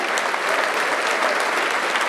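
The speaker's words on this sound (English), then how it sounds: "I'm going to ask you all to please keep your hands clapping" A hotel crowd in Armagh applauds as the hosts of a country music show take the stage, with dense, steady clapping filling the room throughout without a break.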